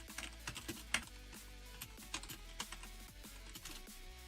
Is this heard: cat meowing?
no